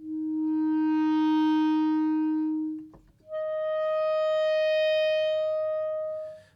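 A clarinet holds a long note that swells and fades in a hairpin dynamic, then after a brief break a higher note rises in volume and tapers off.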